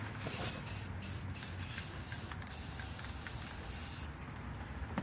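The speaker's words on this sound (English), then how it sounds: "we're actually going to go back over it with magenta spray" A continuous hissing spray from an aerosol can of magenta paint, steady and close, with brief pauses and spurts throughout.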